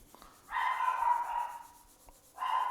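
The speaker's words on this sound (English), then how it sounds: "There goes my dog." A pet dog gives two drawn-out, fairly loud vocal calls, the first lasting over a second and the second starting just before the end, with quiet pauses around them.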